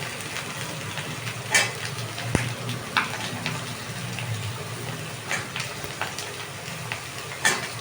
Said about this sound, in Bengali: এবার সেই পটলগুলো একে একে আমি এর মধ্যে দিয়ে দিলাম